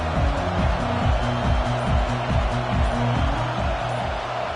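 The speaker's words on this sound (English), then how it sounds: "This crowd bringing the energy and noise early." Dense, steady video game arena crowd roar, loud and continuous, with a low repeating rhythmic pulse underneath.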